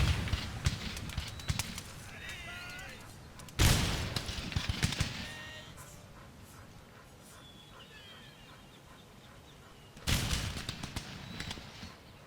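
Musket volleys ring out in Empire Total War, ragged bursts of massed gunfire in two heavy clusters with scattered lighter shots and battlefield clatter between them.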